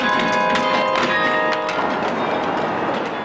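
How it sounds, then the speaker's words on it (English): Church bells ringing from the Church of the Covenant tower in Cleveland's University Circle, a steady run of bright overlapping peals with long ringing tones that sound continuously from start to finish. "voices of bells, music from on high at Church of the Covenant"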